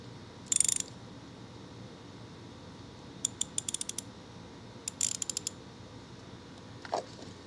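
A ratchet wrench clicks in short rapid bursts while someone works on a Ford Focus, sharp metallic ratcheting close by, separated by quiet pauses, with no talk.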